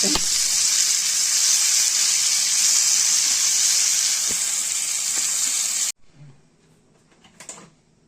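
Chopped raw mango and tamarind sauté in a pan for prawn pickle, giving a loud steady sizzle that cuts off abruptly, followed by quiet handling noises and a brief clatter.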